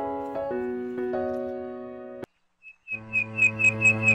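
A cartoon bird chirps in a short animated story, a run of bright, evenly spaced tweets coming after a stretch of music and a brief pause, clear and close.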